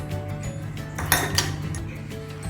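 Ice cubes dropped into a glass for a mojito, a quick run of clinks and knocks against the glass, close and fairly loud, with no voices.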